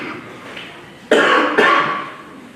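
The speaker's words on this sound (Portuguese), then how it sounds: "Desculpa a tosse." A man delivering a Portuguese sermon coughs twice in quick succession, two loud, close, harsh bursts standing out clearly against a quiet room.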